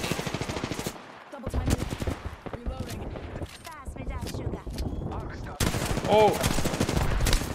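Rapid, loud bursts of Peacekeeper and Mastiff gunfire in a shooter video game, layered shots crackling almost continuously, with a player briefly shouting over the fire.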